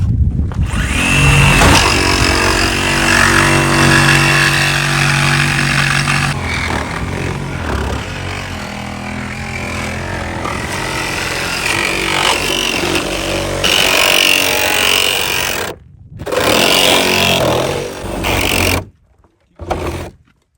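A reciprocating saw buzzes loudly and continuously while cutting through a Toyota Camry's metal body, its pitch shifting with load, then stops and restarts in short bursts near the end.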